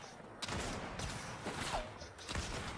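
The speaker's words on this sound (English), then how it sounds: "I shot him 3 times with a sniper" Sniper rifle fire in the video game Fortnite, a handful of sharp gunshot cracks spaced about a second apart over busy game noise.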